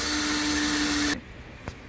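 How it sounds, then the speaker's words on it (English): A small drill bores a 1/8-inch hole in brass flat stock, a steady high-pitched whine that stops abruptly partway through, followed by a single faint click. "I'm gonna drill a 1/8-inch hole."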